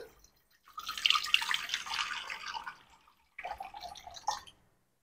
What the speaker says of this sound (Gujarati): આ મેં એક કુકર લીધું છે તેની અંદર હું આ ત્રણ કપ જેટલું પાણી ઉમેરું છું